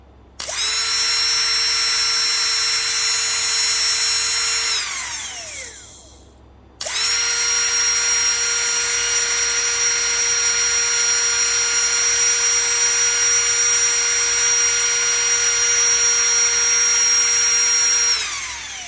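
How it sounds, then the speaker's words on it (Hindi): A high-ampere DC motor runs under load on a lithium-ion battery, giving a loud, steady electric whine that spins down, stops briefly, then starts again and holds steady for a long stretch. "ये जो मोटर है ये अच्छी खासी हाई एम्पेयर की मोटर है।"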